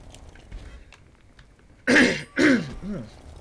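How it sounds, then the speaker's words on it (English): A person clears their throat twice in quick, loud, close bursts, followed by a softer trailing rasp, after a stretch of quiet background. "having to constantly clear my throat"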